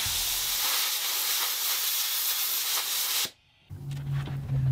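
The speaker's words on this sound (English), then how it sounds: "I'll just use a little bit of compressed air to blow all the dirt out of the cracks." A loud, steady hiss of compressed air blows dust and dirt out of cracks in a wooden serving board, running for about three seconds before cutting off, then a brief low hum.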